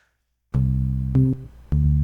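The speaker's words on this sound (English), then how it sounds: "You can get some really realistic electric bass sounding patches with FM synthesis." Silence breaks into a deep, punchy FM synthesis electric bass patch from a Yamaha PCI synth rig playing three notes, each with a sharp click at its attack, loud and alone.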